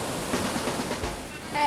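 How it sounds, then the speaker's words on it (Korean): Strong ocean waves rolling onto a beach where children play, a continuous rushing wash of surf with wind noise and faint voices in the background. "점점 거세지는 파도."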